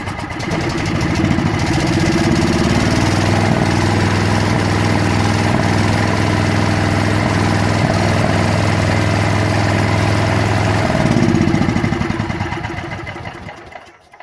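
A Kawasaki KG2900B generator engine starts up and runs loud and close, a steady rough mechanical drone holding for about ten seconds before the pitch shifts and the sound fades out.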